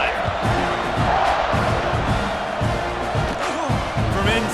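Stadium crowd in College Football 26 keeps up a steady, dense roar with scattered shouts and thumps throughout, a broadcast commentator's voice running over it.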